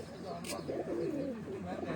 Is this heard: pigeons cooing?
yes